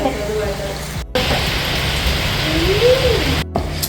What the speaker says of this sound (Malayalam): ഇത് നല്ല മഴയുണ്ട്